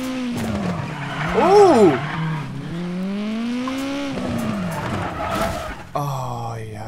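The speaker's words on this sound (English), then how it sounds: "Already hitting the handbrake entries." Tires skid and squeal as a Hyundai i20 rally car slides into a handbrake turn in the WRC 9 racing game, the engine revving and pitching up and down through the slide; a man's brief exclamation cuts in.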